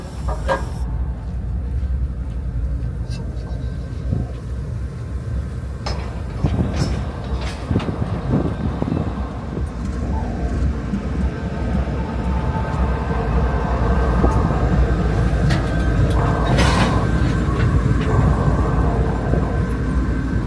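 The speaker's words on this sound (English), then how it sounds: "There is our train." The Prietenia night train on the Bucharest route, a Soviet-era train, rumbles past with loud, continuous wheel noise, rattling carriages and scattered clacks and squeals for twenty seconds, with no talking.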